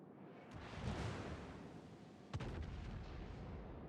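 The naval guns of the Tier 10 destroyer F. Sherman fire in World of Warships. Two heavy booms are spaced a couple of seconds apart, each followed by a rolling, fairly faint rumble.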